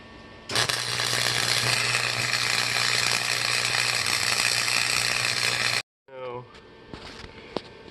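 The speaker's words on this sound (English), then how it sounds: "So I'm just gonna do my best to weld that on well." Welding a larger front wheel onto a mud-going ride-on mower: a loud, steady crackling buzz runs for about five seconds, then cuts off, followed by a few faint clanks.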